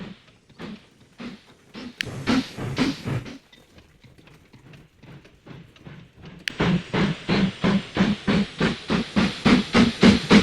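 Steam locomotive from the video game Mashinky chuffing in regular rhythmic puffs with hissing steam, softer at first and then louder and steadier as it works, with no voices.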